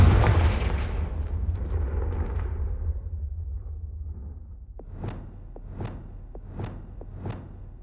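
A Confringo fire spell in Hogwarts Legacy bursts with a heavy, booming explosion that rumbles and fades, followed by a series of about five sharp, evenly spaced cracks.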